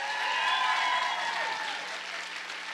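A middle school talent show audience applauds steadily in a fairly faint, even wash of clapping that holds for a few seconds, with a few thin tonal sounds above it.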